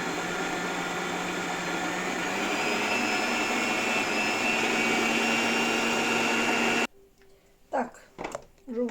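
A loud, steady blender motor whir beating egg whites with sugar runs for about seven seconds, then cuts off abruptly, leaving faint clinks and handling noises.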